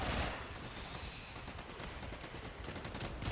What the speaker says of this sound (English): I'm having to listen for the sounds of gunfire